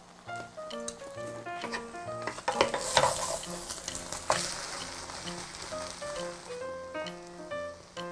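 An egg and a tortilla fry in a hot pan, crackling and sizzling up close with soft scraping and stirring, while a light melody of steady plucked notes plays underneath.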